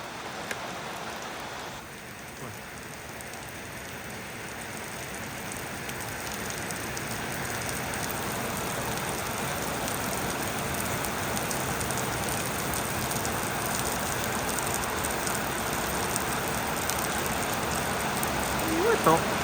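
Heavy rain pours in a steady hiss that builds slightly toward the end, with occasional faint background noise beneath it.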